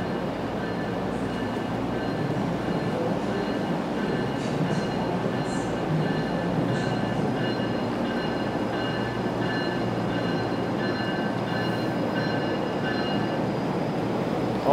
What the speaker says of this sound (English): All these trains are the Boston commuter rail.